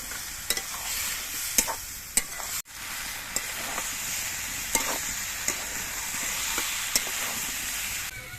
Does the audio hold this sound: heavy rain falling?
no